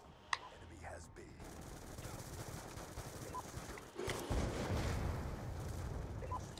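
Gunfire in a shooter video game, bursts and shots crackling through a busy, continuous mix of game noise, louder in the second half, with faint voices under it.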